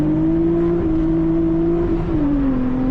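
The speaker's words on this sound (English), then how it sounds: "When you hear this car, it sounds like power, pure, unadulterated, naturally aspirated VTEC power." A naturally aspirated Honda Accord VTEC engine with a meticulously built aftermarket exhaust holds a loud, steady droning tone near by, its pitch easing down slightly toward the end.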